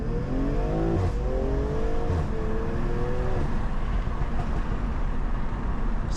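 A BMW M340i tuned to 500 hp accelerates at partial throttle on a road, its engine note climbing through a few short rising sweeps and shifting, heard from inside the car amid steady loud road and wind rumble.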